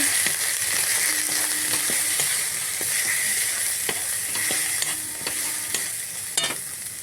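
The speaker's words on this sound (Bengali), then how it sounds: "এবার এটা একটু নেড়ে নেব" Turmeric and spices stirred in a frying pan while cooking chicken, a steady bright sizzle with repeated scraping strokes of a spoon across the pan, close and continuous with no voices.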